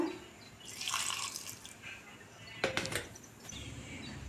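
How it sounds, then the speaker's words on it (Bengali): Water is poured into a mixer grinder jar over green chilies and spices, with short splashing trickles and a brief louder pour, fairly close in a quiet kitchen. "মিক্সি বোলের মধ্যে দিয়ে দিচ্ছি এর মধ্যে একটু জল দিয়ে দেবো"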